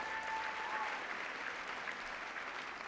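Steady audience applause fills a Miss Texas USA pageant hall, a dense even wash of clapping that holds at moderate level throughout with no voices over it.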